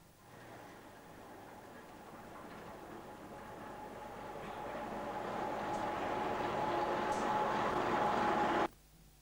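Snowdon Mountain Railway train climbing on its Swiss-designed rack and pinion single track in North Wales, a steady mechanical rumble with a droning whine that grows louder before cutting off abruptly near the end.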